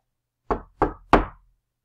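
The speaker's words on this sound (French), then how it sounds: "Tout d'un coup, quelqu'un d'autre toque à la porte." Three firm knocks on a door, evenly spaced and close by, with nothing else around them.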